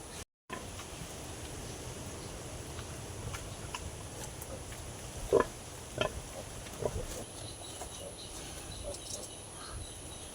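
Pigs rest in a pig pen, giving a few faint, brief grunts around the middle of the stretch over a steady hiss of crickets and insects.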